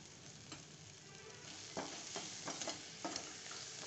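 Soft sizzling of tomato sautéing in a pan with spice powders, with occasional scraping stirs and light clicks of a utensil, quiet and close, no talking.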